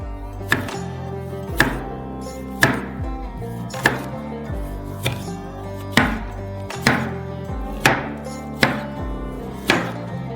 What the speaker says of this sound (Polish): Zamarynujemy rybę w limetce. Pokroimy ją w kółka.